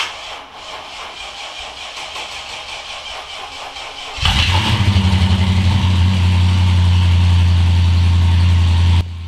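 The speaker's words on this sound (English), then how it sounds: "I'll let you guys listen to the very first start of this engine" A rebuilt Mercedes E55 engine is started for the first time: several seconds of rhythmic starter cranking, then the engine catches with a sudden loud burst and settles into a steady, deep idle before cutting off.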